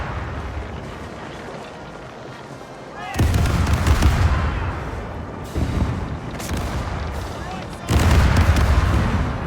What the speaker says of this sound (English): Guess I'll have to keep just shooting at their sails while I'm trying to get closer